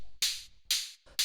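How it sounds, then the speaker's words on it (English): Hi-hat layer built in Operator from white noise through a bandpass filter: three hissy bursts, bright and airy, each ringing briefly, with a soft low pulse underneath. "We just got a bit of white noise going into a bandpass filter."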